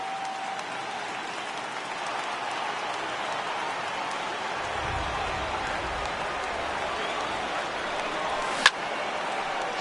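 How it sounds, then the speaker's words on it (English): Heavy rain pours steadily in a baseball video game, a dense, unbroken hiss filling the whole stretch, with a brief sharp knock near the end. "Really starting to pour now, and the forecast is not showing any signs of a break in the weather."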